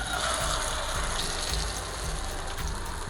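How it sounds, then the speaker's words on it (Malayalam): Whisked egg mixture hits hot coconut oil in a non-stick pan, setting off a loud, steady sizzling hiss that runs unbroken throughout with no talk over it. "എണ്ണ നന്നായിട്ട് ചൂടായി കഴിയുമ്പോഴത്തേക്കും നമ്മുടെ മുട്ട മിക്സ് ചെയ്ത ഒഴിച്ചു കൊടുക്കുക."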